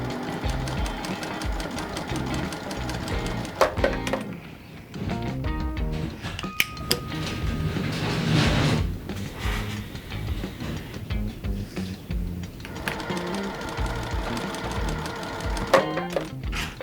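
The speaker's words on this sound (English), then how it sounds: "So I'll sew this one on, and then I'll move to the other piece." A sewing machine stitches quilt pieces for a tango twirl quilt in steady mechanical runs, with brief pauses and clicks between bursts of stitching, close and fairly loud, with no talk.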